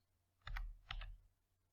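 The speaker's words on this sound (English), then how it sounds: "I'm just sitting here hitting keys." Two quick, close clusters of computer keyboard keys being struck, separated by a short pause, in an otherwise quiet room.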